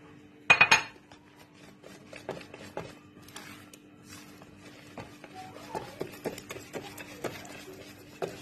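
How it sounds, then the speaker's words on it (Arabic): A batter of flour, milk and yogurt beaten in a bowl at home, with quick, sharp clinks of a utensil against the bowl repeating unevenly, close and fairly quiet. "هضربهم كويس قوي وارجع لكم"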